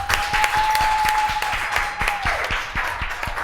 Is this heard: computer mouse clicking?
no